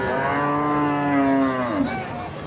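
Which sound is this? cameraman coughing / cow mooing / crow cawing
cow mooing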